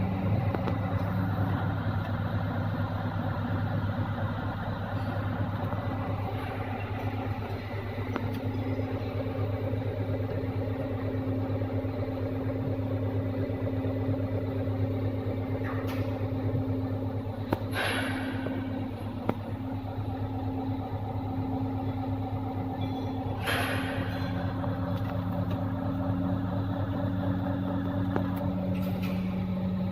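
A crane truck's engine idles after starting, a steady low rumbling hum that holds evenly throughout, with a couple of faint clanks and rattles partway through and no talk.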